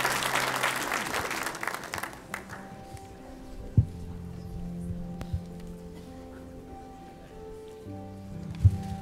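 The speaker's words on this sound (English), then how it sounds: "Let's give them a round of applause." Audience applause at a family-themed gathering, loud clapping at first that fades to scattered claps and murmurs over a few seconds.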